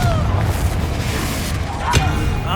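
The Confringo blasting spell explodes in a Harry Potter video game during a fight against mountain trolls, a dense, loud booming roar that rumbles on throughout with a sharper burst near the end.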